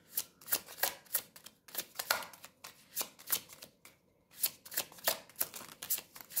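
Tarot cards riffled and snapped down in quick repeated bursts, crisp papery flutters with short gaps between shuffles, close and fairly quiet with no voices.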